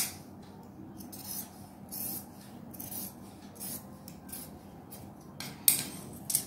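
Scissors snip through kids' frock fabric along a drawn V-shaped front neckline, giving a run of soft, close crisp cuts and rasps against a quiet room background.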